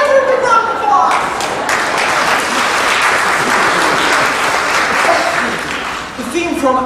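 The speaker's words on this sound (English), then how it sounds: "You gotta give it a big round of applause!" An audience at a holiday concert breaks into loud, sustained applause. The clapping fills a big hall, holds steady for several seconds, then thins out toward the end.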